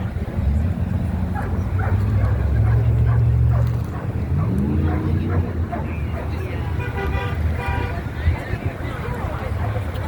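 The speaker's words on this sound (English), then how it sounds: "Look at that dog go. He's got his own voice and he can make it heard." A dog barks and yips excitedly at an outdoor "No Kings" Flag Day protest in Minot, North Dakota. Its calls rise over steady crowd noise, voices and a horn toot, and carry on throughout.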